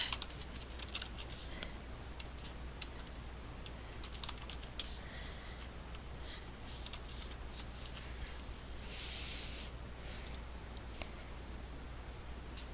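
Fingers tap a computer keyboard in quick, uneven bursts of light clicks at close range, running steadily over a low background hum with no talking.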